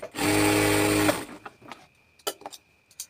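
A sewing machine stitches a double seam on a pant-system salwar, running in one close, steady burst of rapid stitching for about a second before stopping, followed by a few faint handling clicks.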